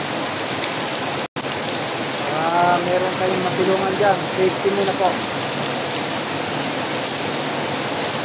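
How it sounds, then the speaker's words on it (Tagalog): Heavy rain falls in a steady, close hiss while a person speaks over it partway through. "Patila mo po kayo ng ulan."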